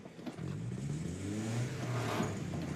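A manual stick-shift car engine revs steadily and fairly close, a sustained mid-pitched drone that rises slightly as it strains, with no talking.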